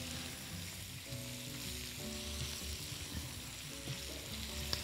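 Onion or garlic fries in a pan after shrimp, giving a continuous soft sizzle with faint stirring touches and a low hum underneath.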